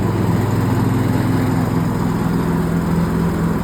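A John Deere X500 lawn tractor runs with its mower blades engaged, a loud, steady engine drone with a constant low hum held close and unbroken throughout, no voices.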